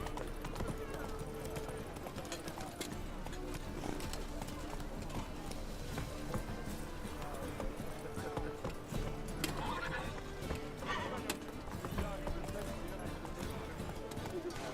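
Geralt's horse Roach galloping with rapid clip-clop hooves and neighing in The Witcher video game, a dense, continuous gallop under game sound and a rider's voice.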